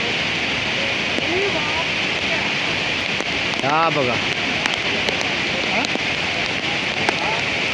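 Monsoon rainwater rushing down the slopes of Raigad fort makes a loud, unbroken roaring wash. A voice speaks briefly over it.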